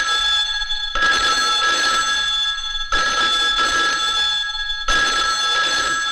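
A telephone rings indoors in three loud, bright electronic bursts, each about two seconds long with short silent gaps between, with no voices over it.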